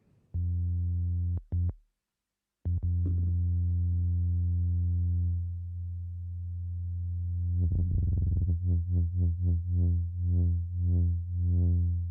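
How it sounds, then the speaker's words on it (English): A pure, steady single-oscillator synthesizer tone holds, drops out briefly, then returns and begins pulsing in a regular LFO wobbling rhythm toward the end. "we've got this very basic single oscillator sound"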